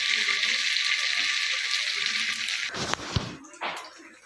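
Vawal fish frying over a low flame gives a bright, steady sizzle for several seconds. A few loud crackling bursts and spatters break in near the end.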